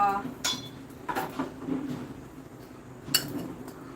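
Chili, garlic and pepper are pounded in a mortar in a home kitchen: a few sharp, hard knocks with clinking edges, spaced irregularly, with a person's voice speaking faintly in the background.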